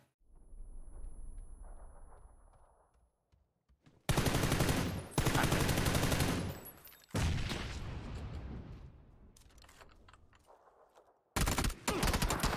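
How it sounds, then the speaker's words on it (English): Gunfire in a multiplayer shooter video game: several loud bursts of rapid automatic fire separated by quieter gaps, with a final short burst near the end. "That guy just shot his teammate too."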